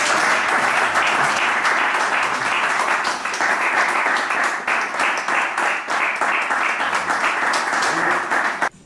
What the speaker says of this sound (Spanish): Y un aplauso como colaborador.